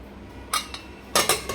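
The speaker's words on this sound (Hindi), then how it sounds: "अब हम इसका कुकर का ढक्कन लगाएंगे।" A metal pressure cooker lid is set onto the pot in a home kitchen while making mutton curry, giving a few sharp metallic clinks and clatters in two short bursts, close and fairly loud, with no talk.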